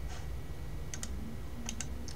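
Computer mouse clicked on a Linux desktop panel, a few quick close clicks in two small clusters over a steady background hiss, no speech.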